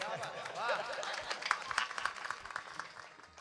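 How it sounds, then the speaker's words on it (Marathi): Audience applause at a Marathi kirtan during a Hindu devotional week-long chanting event, scattered clapping swelling briefly under a speaking voice and crowd murmur, tapering off toward the end. "दादांसाठी टाळ्या वाजवा."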